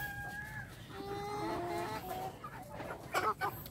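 Rhode Island Red chickens of a dark mahogany strain clucking close by in a backyard farm pen, with a few rising calls and one louder burst of clucks near the end, no voices.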